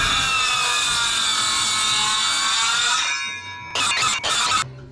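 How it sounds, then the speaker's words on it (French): Saw blade strokes cutting a fir wood purlin, set to remove 15 mm: a sustained bright rasping cut for about three seconds, then a short pause and several quick, loud scraping strokes close by, with no talk. "Et là, tu fous des coups de lame ici."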